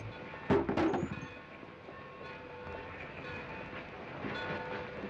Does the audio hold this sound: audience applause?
no